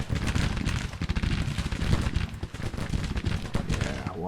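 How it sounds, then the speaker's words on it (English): Massed musket fire from soldiers in a Grand Tactician Civil War battle crackles as a dense, continuous fusillade of overlapping shots with heavy low rumble. It holds steady throughout and sounds distant but loud, with no voices. "They're still firing."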